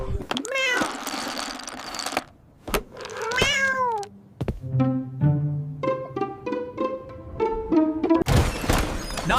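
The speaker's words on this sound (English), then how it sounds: "Oh, wait! You're a cat!" A cartoon cat meows several times in a row, each call with a rising and falling pitch, heard close and clear between bursts of a synthetic robotic voice and electronic sci-fi sounds.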